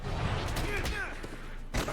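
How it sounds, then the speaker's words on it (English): Rocket's ultimate attack in Marvel Strike Force, a short barrage of punchy gunfire-like blasts and thuds, fairly loud, with a voice speaking over part of it. "Rocket's about to use his ult."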